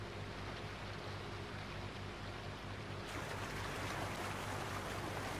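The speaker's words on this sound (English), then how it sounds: "You'll hear the noise of the water on that waterfall as it smashes down on those rocks." A waterfall crashing onto rocks in Farming Simulator 19 makes a steady, dense rushing roar with no pauses, growing slightly louder and brighter partway through, with no voices.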